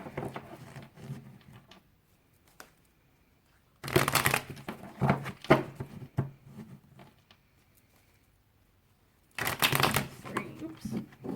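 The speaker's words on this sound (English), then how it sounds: "One more shuffle." Tarot cards shuffled in bursts of dense papery riffling, two loud close passages separated by quieter gaps, with a softer stretch of handling at the start.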